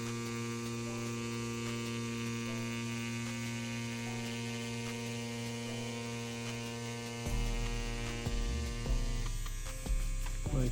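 Tattoo machine buzzing steadily while lining a tattoo, a close, continuous electric hum with a few brief heavier bumps near the end, no talking.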